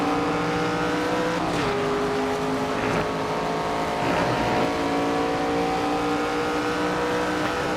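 Race car engines roar steadily in the NASCAR 25 video game during an ARCA Series race, a dense continuous drone with rising and falling revs as cars pass, no talk over it.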